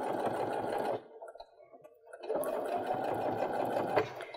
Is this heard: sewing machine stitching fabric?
yes